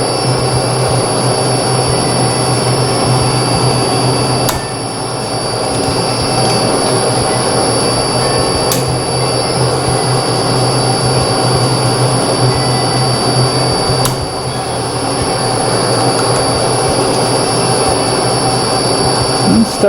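Metal lathe cutting a thread in a shop, a loud steady machine drone with high whine and faint cutting hiss, a few sharp ticks marking passes, close and continuous.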